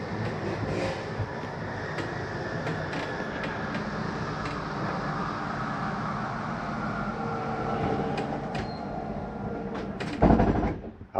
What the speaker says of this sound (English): That is just the slide mechanism saying I'm in all the way.